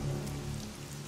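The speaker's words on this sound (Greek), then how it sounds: "Ο μόνος ήχος που ακούγεται είναι το βουητό της βροχής." Steady rain falls through a night over a city, a dense, even hiss of drops on surfaces with no voices, close and moderately loud throughout.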